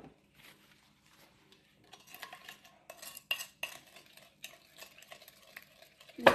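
Meat being mixed by hand or spoon with seasoning for pepper steak, giving soft irregular stirring, squishing and light clinking sounds that start quietly and grow busier, ending in a louder knock.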